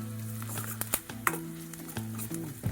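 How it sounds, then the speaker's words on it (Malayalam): Curry leaves sautéing in a pan for a mushroom dish, a light crackle with a steady low hum beneath and several sharp scrapes and clinks of a stirring utensil against the pan, fairly close. "ഒരു 2 കതിർപ്പ് കറിവേപ്പില ഇട്ട് കൊടുക്കാം. വഴറ്റിയെടുക്കാം."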